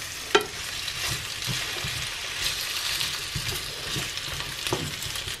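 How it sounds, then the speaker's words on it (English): Potatoes hit hot extra virgin olive oil in a pan and fry with a steady, loud sizzle and crackle, with a few sharper pops and clatters at the start. "The oil is hot enough now, so I'm just going to add the potatoes."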